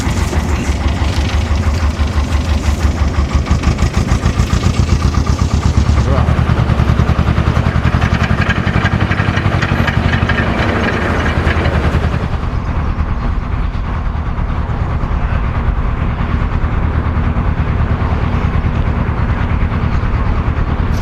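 A historic working boat's engine chugs with a steady rhythmic thump close by, its sound shifting partway through as it is put in gear, then settling into an even running beat.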